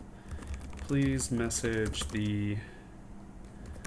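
Keys clatter on a computer keyboard at close range as a short burst of typing, partly covered by a voice speaking over it.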